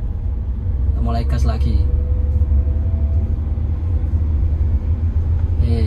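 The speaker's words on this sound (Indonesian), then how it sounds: "ketika sudah jalan normal kita mulai gas lagi" A manual car pulls away after the clutch is released and is given more throttle, its low engine rumble steady and loud throughout, with a brief spoken voice early on.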